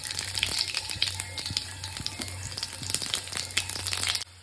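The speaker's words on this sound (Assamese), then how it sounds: "এয়া গৰম তেলত ফ্ৰাই কৰিব লাগিব কিছু সময় এতিয়া ফ্ৰাই কৰি থকা হৈছে" Mushrooms fry in hot oil in a home kitchen, giving a steady, close sizzle with frequent sharp pops and crackles that continue for the whole stretch and cut off at the very end.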